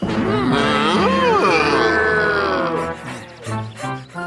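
Cows moo in long, drawn-out calls that overlap one another, loud and close, fading into a few shorter lows at the end.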